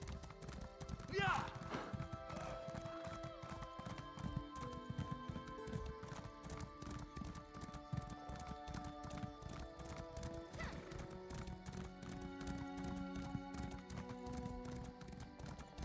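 Horse hooves in the Elder Scrolls Online video game clip-clop at a steady trotting rhythm, with a brief whinny near the start, all under game music and ambience.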